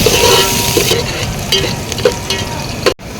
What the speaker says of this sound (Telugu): ఆయిల్ వేసేసుకొని ఉల్లిగడ్డ వేసేసుకుందాం రెండు పచ్చిమిర్చి